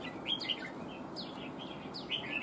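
A red-whiskered bulbul kept as a trap-fighting bird gives short bright chirps and whistled call notes, repeated several times over a steady background hiss, fairly clear and close.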